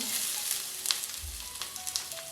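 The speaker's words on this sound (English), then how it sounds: "Our oil is ready. It has heated, so we're putting the onions." Onions drop into heated oil for an okra and beef stew, giving a quiet, steady sizzle with small crackling pops and a brief low thump as they land.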